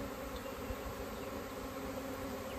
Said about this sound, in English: the bees will start fanning the entrance